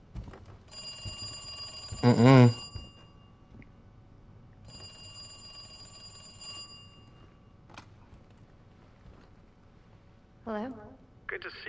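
A telephone rings in the Resident Evil 2 video game, two bursts of bright, trilling bell rings separated by a pause, with a short spoken murmur and a louder game sound near the end.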